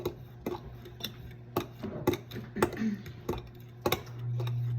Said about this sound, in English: And you're gonna keep stirring.